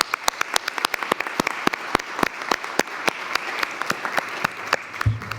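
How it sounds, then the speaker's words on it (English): A county fair audience claps for the event's sponsors in a steady round of applause, dense and fairly close, with a low thump near the end. "So I'd just like to give a round of applause to all of our sponsors."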